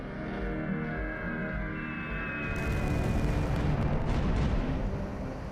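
A heavy bomb dropped by a B-2 stealth bomber detonates in a deep, rumbling roar that swells and holds, with a sharper crackling wash building midway through and no voices.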